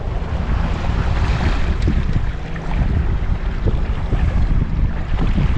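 Wind blowing over a bass fishing boat on Lake Toho: a steady, loud roar of wind buffeting the microphone with lapping water underneath, continuous throughout and with no talk.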